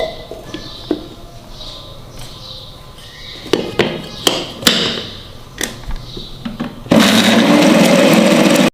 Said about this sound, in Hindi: अब इसको अच्छी तरह हम फिर से ग्राइंड करेंगे।